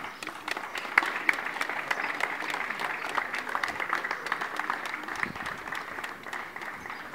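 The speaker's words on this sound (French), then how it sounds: "Et je vous demande de l'applaudir très très fort" Sustained audience applause at an actor's funeral, a fairly soft, even spread of many hands clapping that runs throughout with no speech.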